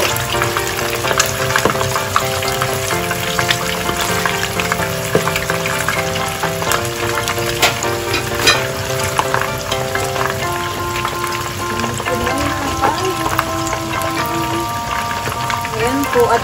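Fish fries in a pan with a dense, continuous crackling sizzle like rain, steady and close for a long stretch while music plays underneath.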